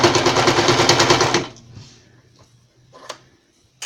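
A sewing machine runs in a fast, steady rhythmic chatter while zigzag stitching a fabric bracelet, close and loud for about a second and a half before stopping, leaving faint clicks and handling noise.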